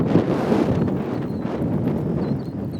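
Strong wind buffets the microphone on an open lake during a bass fishing trip with crankbaits, a steady loud low rumble with gusty swells that runs unbroken and alone.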